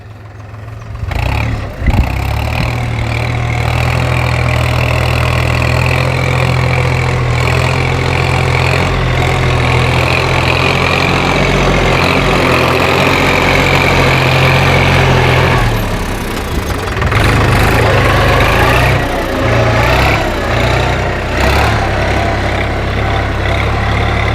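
A New Holland TT3.50 tractor engine runs steadily at a low, throbbing idle close by, loud and continuous for the whole stretch with a slight dip and change in tone near the end, no talk.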